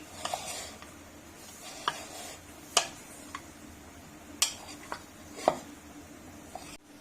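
Chopped vegetables being mixed by hand in a bowl for Punjabi naan pakora: scattered sharp clicks and taps from a spoon or bowl, spaced irregularly over quiet rustling, fairly close and soft.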